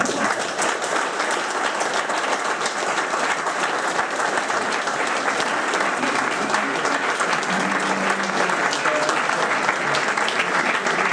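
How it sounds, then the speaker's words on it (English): Dense, sustained applause from a party crowd at an archery club's diamond jubilee, honouring the club's major contributors, loud and continuous throughout with faint voices mixed in. "So can I ask you all to give a final round of applause to our major contributors"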